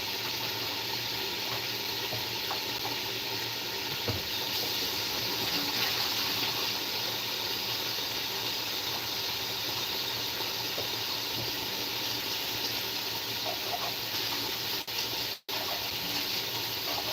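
Water runs steadily from a tap during washing up, a constant close hiss and splash that continues unbroken for the whole stretch and ends with a brief sharp knock near the finish.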